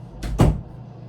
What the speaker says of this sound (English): Okay, we're gonna close the door.